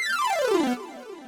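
A synthesizer lead sweeps downward in a quick glissando, one bright harmonic-rich tone falling in pitch over under a second before a softer tail, heard alone.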